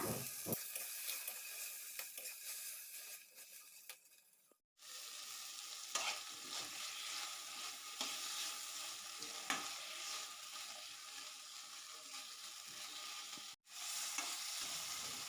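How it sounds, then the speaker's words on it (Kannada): Curry leaves and chopped tomato fry in a pan with a steady, bright sizzle, broken by occasional stirring scrapes and two brief dropouts. "ಈಗ ಇದು ಫ್ರೈ ಆಗಿ ಆಗ್ತಾ ಇದೆ ಈಗ ಸ್ವಲ್ಪ ಕರಿಬೇವನ್ನು ಹಾಕ್ಕೊಳ್ಳೋಣ"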